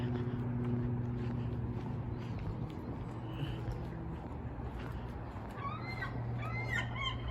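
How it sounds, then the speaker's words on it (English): Seagulls call faintly in the distance near the end, several short cries over a steady low hum and outdoor noise outside an abandoned Kmart in Erie, Pennsylvania. "And you can hear seagulls."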